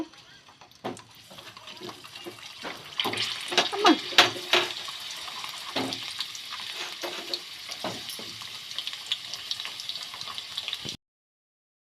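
Amla gooseberries fry in hot spluttering oil, a steady crackling sizzle with sharp pops and clatter bunching up in the middle, then the sound cuts off abruptly near the end.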